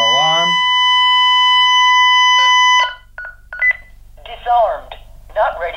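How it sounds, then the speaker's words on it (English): A Honeywell L5200 alarm panel sounds its panic siren: a loud electronic warble settling into a sustained high tone that cuts off abruptly, followed by keypad beeps and someone talking. "pressing and holding this button is gonna activate the panic alarm. As soon as I hear the siren"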